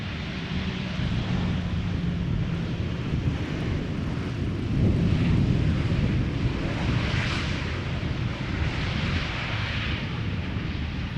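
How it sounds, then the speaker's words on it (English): A Transavia Boeing 737-800 arrives at Schiphol, a broad rumbling jet roar swelling midway and then easing, heard at a distance with some wind noise. "And this is Transavia flight 5132 arriving from Barcelona."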